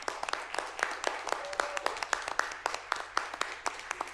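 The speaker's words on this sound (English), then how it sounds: "Could we all give them a round of applause" Applause for school principals at a school board meeting: a modest group of people clapping in a room, with distinct, fairly steady individual claps close to the microphone throughout and no talking over it.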